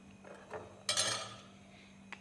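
A spoon stirs and clinks through the ingredients of a homemade special drink in a glass or jug, a few soft scrapes and one brighter burst of clatter, close by and fairly quiet with no talking.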